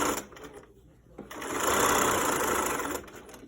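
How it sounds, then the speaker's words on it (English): A sewing machine top stitching around the edge of a fabric mask, starting in short bursts, then running in one fast, steady, close-up whir before slowing to a stop. "So I'm just top stitching around the edge."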